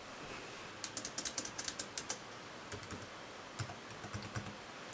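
Computer keyboard keys click in a quick burst of about a dozen taps, pause, then a few more scattered presses, fairly close over a quiet room hum while a partition size is entered during a Windows XP and 7 installation.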